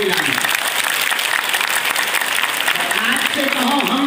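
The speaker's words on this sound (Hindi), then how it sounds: "बागेश्वर धाम की एक बार जोरदार ताली आप लोग बजाओ इनके लिए।" Loud, sustained applause from a large crowd at a Bageshwar Dham religious gathering, steady clapping filling the whole stretch with a murmur of voices underneath.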